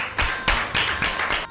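A small audience at a Bible quiz gives a quick round of applause for a team, a short cluster of close, sharp claps and taps lasting barely a second and a half.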